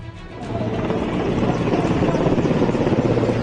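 Helicopters fly over Bhopal showering flowers on a medical team, a deep rhythmic rotor thump that grows louder and stays close and steady, with no talk.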